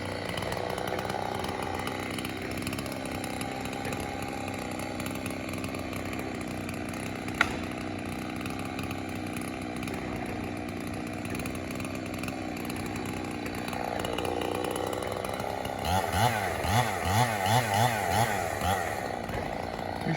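A chainsaw running without its muffler pipe drones steadily, loud and raw, while felling a big dead fir snag, then revs in rapid pulsing bursts near the end.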